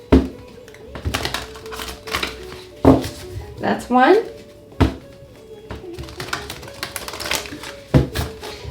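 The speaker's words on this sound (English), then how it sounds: "2 more shuffles." A deck of tarot cards is shuffled in a series of crisp, papery bursts and taps at close range, with short pauses between them, while a voice speaks briefly in between.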